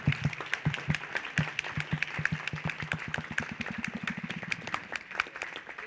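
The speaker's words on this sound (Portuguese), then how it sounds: "Agora vamos aplaudir os organizadores." An audience at a seminar applauds the organizers. Sharp claps start out spaced and rhythmic, then quicken into a denser patter before fading.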